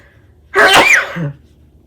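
One loud, sharp sneeze from a woman, close and sudden, standing alone against a quiet room.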